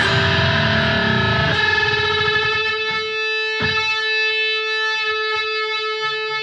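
A distorted electric guitar sounds a note that bends upward a whole step, from a riff, then rings out with a sustained, echoing tone and a second picked attack.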